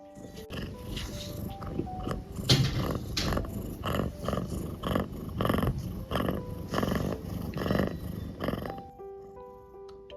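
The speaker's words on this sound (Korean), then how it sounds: "아마 골골송은 처음 하지 않나?" A kitten purrs in a steady rhythmic rumble, repeated pulses of soft vibration close by, then it fades out near the end.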